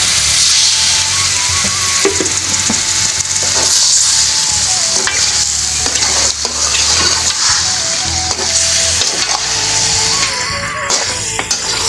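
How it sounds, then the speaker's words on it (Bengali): Duck meat stir-fried in a pan sizzles loudly and continuously up close, with repeated scraping and clanking of a spatula against the pan. "এখন আমি কিন্তু এই মাংসটা ভালোভাবে কষাই দেব"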